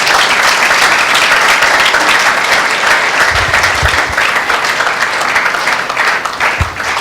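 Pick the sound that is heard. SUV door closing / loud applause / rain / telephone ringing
loud applause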